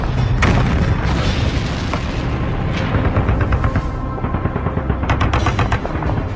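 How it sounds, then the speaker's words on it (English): Artillery bombardment in wartime North Africa during World War II, with shells and bombs bursting. A loud, continuous barrage of booms and sharp gunfire cracks, with dense overlapping blasts and rapid bursts near the end. "You couldn't see the town sometimes for the smoke from the bombs and artillery shells."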